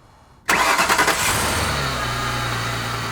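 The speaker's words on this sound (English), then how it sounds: "So let's go start up the car." A car engine cranks and catches after a water pump replacement, firing up loudly after a short quiet lead-in, revving briefly, then settling into a steady idle with no talking.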